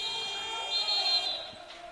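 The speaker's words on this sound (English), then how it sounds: "Walker's attempt came after the shot clock buzzer" Shot clock buzzer sounding at a men's college basketball game in a gym, a sustained electronic tone holding steady for about two seconds over crowd murmur and arena ambience.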